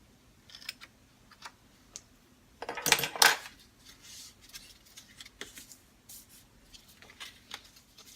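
Paper edges of a handmade decorative journal being trimmed, a few soft crisp snips and rustles with a louder cluster of cutting sounds in the middle, fairly close and quiet with no talk.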